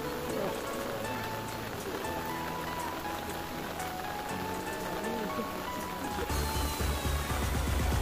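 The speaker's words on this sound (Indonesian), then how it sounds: "Karena hujan turun secara terus menerus, tenda kami agak sedikit kebanjiran." Continuous rain falls on a tent at a school scout camp in Indonesia, a dense, steady patter that stays loud throughout, with faint voices in the background and a heavier burst toward the end.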